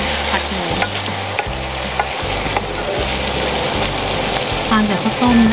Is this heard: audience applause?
no